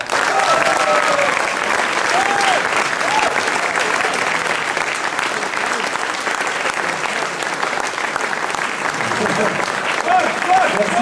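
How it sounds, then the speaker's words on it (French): Thunderous applause from a large crowd at a political rally, greeting the campaign director with sustained, dense clapping that runs unbroken throughout, with faint voices and a few cheers mixed in. "je voudrais que vous lui réserviez un tonnerre d'applaudissements, mon ami Paul Loac."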